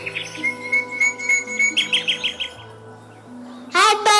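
Birds chirping in a steady series of bright tweets and short trilled calls over a soft whistling tone, ending in a louder, busier burst of chatter.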